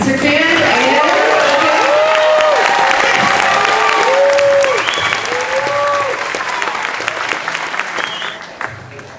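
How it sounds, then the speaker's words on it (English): Audience at a middle school spring concert applauds the concert band, loud sustained clapping with some cheering and scattered voices that gradually thins and fades toward the end. "another round of applause for our concert band"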